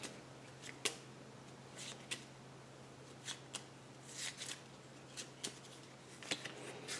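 Quiet, irregular shuffling and flicking of playing cards during a solitaire game of Brass Empire, soft crisp snaps scattered over a steady low electrical hum.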